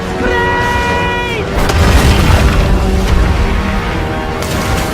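Naval cannons fire on pirate sailing ships in an open-world video game, a sustained heavy rumble of booming shots dense over battle noise and music, with a voice speaking over it.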